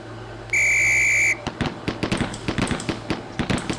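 A shrill, steady range whistle in the police training game Police Quest: SWAT sounds for under a second, then a rapid string of sharp gunshot cracks follows in quick succession.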